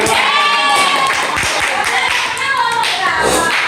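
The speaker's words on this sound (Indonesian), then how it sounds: "tepuk tangan buat kalian semuanya" Students in a micro-teaching classroom session clap together, a dense steady run of claps filling the whole stretch, close and loud, with voices faintly mixed in.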